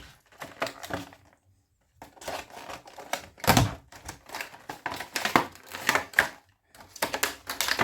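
Sharp tearing and crinkling of a Carrera Go 1:43 slot car set's packaging being ripped open in bursts, with brief pauses between rips, loud and close.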